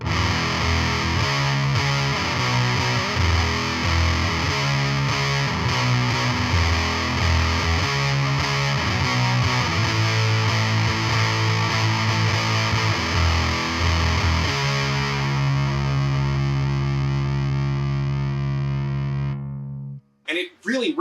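An electric guitar through a Warm Audio Foxy Tone Box octave fuzz pedal rings out in thick, distorted sustained notes and chords for about twenty seconds, loud and continuous, then cuts off abruptly with a few brief clicks.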